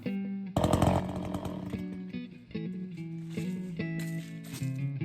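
Close up, an Echo CS-400 chainsaw engine runs unevenly at low speed after cutting through an old hard stump, its buzzing pitch dropping and stepping as it winds down.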